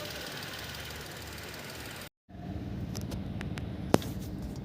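A Tata Nexon BS6 petrol engine idles steadily after an ignition coil repair, a continuous close mechanical hum broken by a short gap near the middle and a single sharp click later on.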